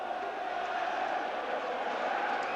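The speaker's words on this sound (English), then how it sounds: "a very happy crowd now at the Den" A football crowd at the Den roars after a Millwall goal against Everton, a steady, dense wall of cheering heard from a distance, with no breaks throughout.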